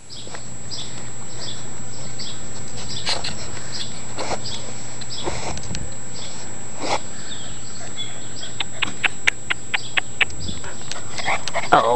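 Six-week-old Newfoundland puppies in a litter, giving a scatter of short, high whimpers and yips over steady room noise, growing busier toward the end.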